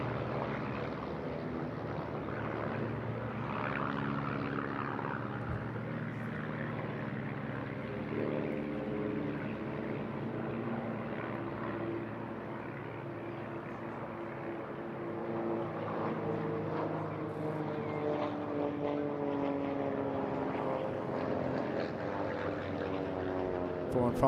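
Aircraft fly in close formation at the Eastbourne International Airshow 2023, giving a loud, steady engine drone with layered humming tones that slowly rise and fall as they pass.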